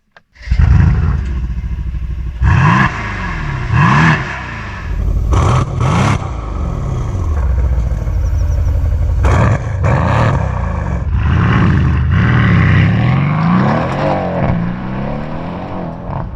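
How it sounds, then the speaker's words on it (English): A 2019 Mercedes-AMG C63 S wagon engine roars close and loud, revving hard and accelerating through several surging gear changes with deep, sustained exhaust growl. "Let's see what that engine can do."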